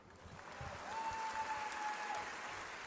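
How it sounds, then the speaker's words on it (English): Arena crowd at a B.League game between the Ryukyu Golden Kings and Hiroshima Dragonflies gives the basketball players a round of applause, a faint, distant patter of many hands swelling slightly then holding. "the players now receive a round of applause"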